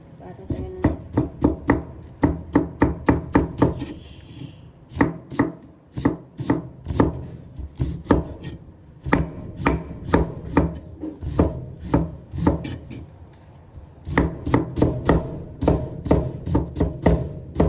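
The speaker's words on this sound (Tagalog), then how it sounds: "Ganitong paghiwa, guys." A knife chops through jicama (singkamas) in a steady run of sharp, close, evenly spaced cuts, with a brief pause near the middle. The board knocks loud with each stroke and no voice is heard.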